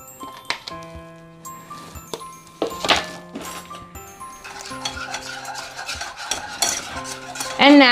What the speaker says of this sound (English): And now we just stir.